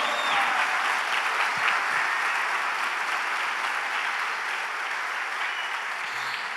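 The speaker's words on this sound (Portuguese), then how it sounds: "Pode aplaudir o Senhor." Church congregation applauding, a steady, dense wash of clapping from many hands that holds evenly throughout, with no talking over it.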